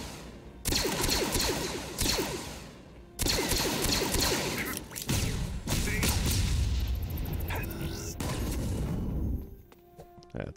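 Video-game gunfire on Endor: loud, dense bursts of shots and crashing impacts, broken by brief lulls, ending in quieter scattered clicks and mechanical noises.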